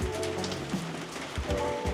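Heavy rain pouring down during a long-distance bike ride around Taiwan in stormy weather, a dense steady patter of drops with faint mechanical clicks mixed in, no talking.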